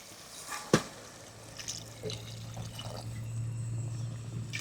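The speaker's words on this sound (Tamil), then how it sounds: "இப்போ தண்ணி ஊற்றுக்கலாம்" Water is poured into a cooking pot while making a Tamil goat trotter paya, a soft liquid splash and trickle that builds into a steady pour, with no one talking.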